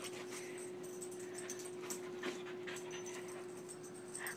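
A dog pants quickly and steadily close by with a few faint whimpers, over a constant low hum indoors.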